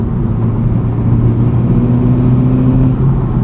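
A tuned Honda Civic Type R FL5 with a COBB Accessport and 93-octane tune pulls hard from inside the cabin, its engine drone steady and strong with tones climbing slightly over a few seconds.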